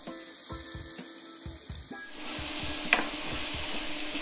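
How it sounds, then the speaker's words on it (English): Onions and garlic dropped into a hot pan with charred bits on the bottom, a loud steady close sizzle swelling midway, with a few scraping stir strokes underneath, no talk. "I'm gonna go straight in with my onions and my garlic to try to deglaze the pan."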